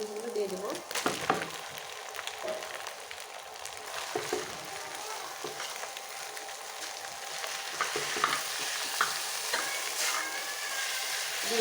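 Boiled noodles stir-frying in a hot pan for green chowmein, a steady crackling sizzle with scraping stir strokes and occasional spatula clanks throughout.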